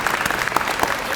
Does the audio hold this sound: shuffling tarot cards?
no